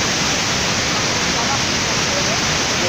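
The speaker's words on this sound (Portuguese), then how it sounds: "Aqui é a cachoeira só, partezinha." A river waterfall roars in a steady, loud, broadband rush of falling water with no change across the short stretch and no voices over it.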